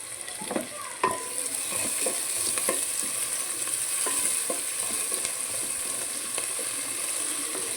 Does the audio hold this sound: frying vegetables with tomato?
yes